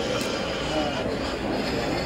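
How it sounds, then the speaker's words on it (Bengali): Passenger train on the Sealdah to Lalgola line pulling away from a station, a steady rumbling wash of wheels and carriage noise with faint squeal, continuous and close throughout. "এত লেট করে ট্রেনটা ছাড়ছে দেখুন।"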